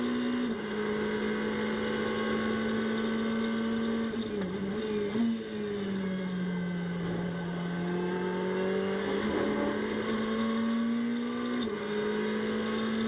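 A Ferrari GT race car drones through the esses at Watkins Glen during a Blancpain GT World Challenge America race, a sustained engine tone that shifts pitch as it accelerates and lifts. The sound is steady and loud, heard continuously without talking.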